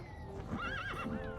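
A horse neighs in the Lego Island 2 video game, a clear whinny with rising and falling pitch that holds for about a second over a busy game background, with no talking.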